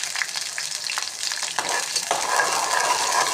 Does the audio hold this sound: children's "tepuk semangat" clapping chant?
no